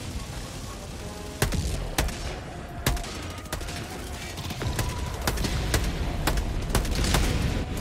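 A 380mm orbital barrage in Helldivers 2 lands as a run of heavy, sharp blasts at a steady rhythm, about one each half-second to second, over a continuous rumbling roar.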